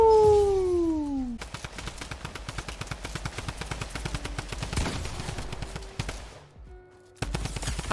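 Tommy Gun fire in Fortnite: long rapid bursts of automatic fire rattling steadily, loud and close, with a brief pause before the shooting resumes.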